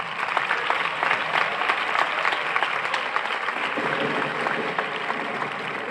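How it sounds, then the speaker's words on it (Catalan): An audience at a local sports awards gala in Sant Vicenç claps for an honoured swimmer, the applause dense and sustained across the whole stretch with a faint crowd murmur beneath. "sí que rebrà l'aplaudiment com és de justícia"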